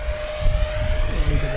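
FMS Rafale RC jet airplane flying overhead, a steady loud ducted-fan whine and rushing roar holding throughout with slight swells, no talk over it.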